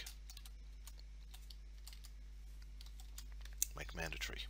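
Keys clacking on a computer keyboard while entering text into a form, faint and close, scattered taps building to a quicker burst near the end over low electrical hum.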